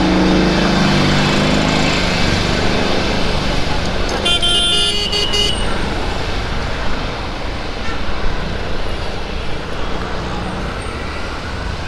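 Road traffic on a street in Malad West, Mumbai, with road works, as a car drives slowly: a steady loud rumble of engines with a short horn toot partway through and a voice talking over it.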